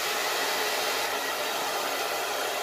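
A Kiki professional two-speed hair dryer blowing steadily, a loud continuous whooshing roar up close with no pauses or voices.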